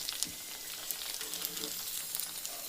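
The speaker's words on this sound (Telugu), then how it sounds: "ఇప్పుడు ఇవి వేయించుకోవాలి." Pani puris frying in hot oil make a steady, even sizzle with fine crackling pops throughout, close and fairly quiet, with no voices.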